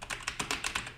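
Keys tapped on a Logitech G PRO K/DA mechanical keyboard: about seven distinct, separated clacks at an uneven rhythm, close and clear with no talking.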